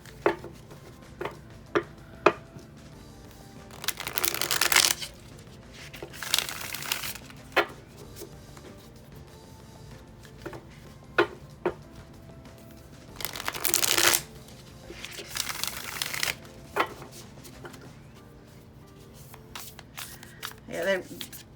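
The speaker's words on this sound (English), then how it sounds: "they riffle shuffle better than they overhand shuffle" A tarot card deck being riffle shuffled in several crisp, ruffling bursts separated by quieter gaps with soft handling and tapping sounds.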